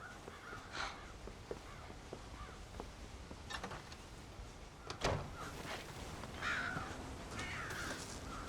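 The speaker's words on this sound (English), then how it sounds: "Damn crows!" Crows caw repeatedly over a farm in the video game Red Dead Redemption, harsh calls rising from a steady outdoor ambience at varying distances, with one louder, closer burst midway.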